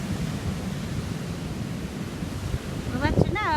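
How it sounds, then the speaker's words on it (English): Pacific Ocean surf washes onto an empty beach in Mexico in a steady, broad rush of waves and wind, with a voice briefly speaking near the end. "Welcome to the Pacific Ocean in Mexico."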